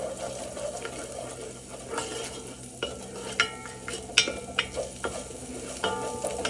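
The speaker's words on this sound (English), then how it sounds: "give this a bad boy a good old stir" Garlic stirred in olive oil in a pot, a soft sizzle and frying hiss with intermittent scraping and clinks of the spoon against the pot, close and moderate in volume.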